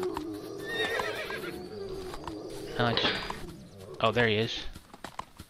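Horses whinny twice in the Trials of Wilderness survival game, loud bursts close by over a rustling outdoor background, while someone talks throughout.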